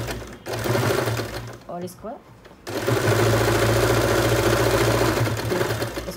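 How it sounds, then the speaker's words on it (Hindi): A sewing machine hums in a brief burst, pauses while someone speaks, then runs steadily and loudly for several seconds as it stitches the corner of a leftover cloth piece. "इसको हमने यहाँ से सिलना है इस तरीके से।"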